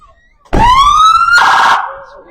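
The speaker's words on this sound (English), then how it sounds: "And their siren." Kewaskum Police Department car's siren at a Christmas parade, a loud, close wail that sweeps upward and then shifts to a harsher tone before fading, sounding alone.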